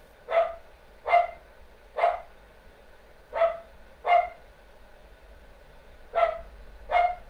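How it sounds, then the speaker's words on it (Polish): A dog barks seven times in short, evenly spaced yips and woofs, fairly close and moderately loud against a quiet room with no talking. "Jeszcze Milka szczeka."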